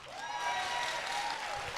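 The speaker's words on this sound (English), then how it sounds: "Give yourselves a big applause." Audience applause at an evening gathering, a steady wash of clapping with a tonal hum or music running underneath, fairly loud and continuous.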